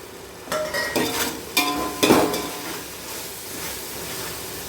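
Coriander leaves being stirred into mutton biryani in a pot: a few close scraping, clinking stirs over a soft sizzling hiss that settles into a quiet steady simmer.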